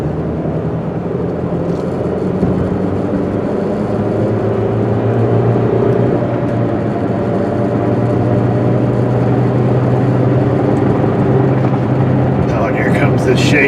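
A Hyundai Tucson with a manual gearbox idles rough and shakes, its steady low engine drone and rattling vibration continuous throughout, with faint background noise and no distinct talk.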